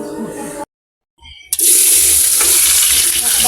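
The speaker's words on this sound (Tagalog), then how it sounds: "So magpiprito tayo ng patatas." Potatoes fry in a pan, a loud, close, hissing sizzle that bursts in after a brief moment of near silence and then holds steady.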